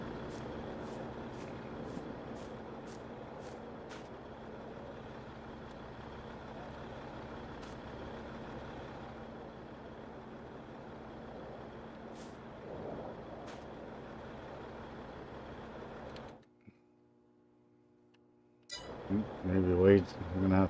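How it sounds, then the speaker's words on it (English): A truck engine idles in Farming Simulator 22 with a steady low drone, near and continuous, broken by a few sharp clicks, then dropping out briefly before louder engine revving and rumbling return. "I'm going to fire up his truck so that we can get the cows in here."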